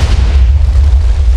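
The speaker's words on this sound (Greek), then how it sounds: "High Explosive TNT, αυτό νομίζω κάνει τεράστια έκρηξη ή κανονική TNT έκρηξη" A huge High Explosive TNT blast in Minecraft, an oversized version of the normal TNT explosion, booms as one deep, sustained rumble that fills the clip loudly with no talk.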